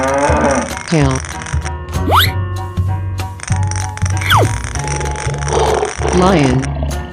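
Cow mooing in a 3D animal sliding game, a few drawn-out low calls sounding alongside other animal cries and steady game music, with a voice talking over it.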